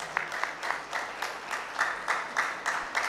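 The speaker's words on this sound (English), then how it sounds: "if you could kindly applaud in consent, we could take it as an endorsement." Conference audience at an international Buddhist gathering clapping in a fairly quick, moderately loud rhythm, with each clap burst standing apart before the sound cuts off after about three seconds.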